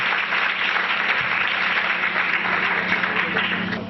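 Steady, dense applause from an audience at a foundation debate event as the chief guest is called up, a continuous even wash of clapping lasting throughout without pauses or speech.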